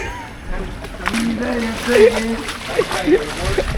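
Water splashes and sloshes steadily as someone walks through rain floodwater, while a person talks and exclaims over the watery noise.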